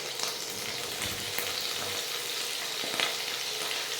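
Prawns sizzle steadily in oil in a pan, a close, continuous frying hiss with a few soft clicks and stirring touches, no voices.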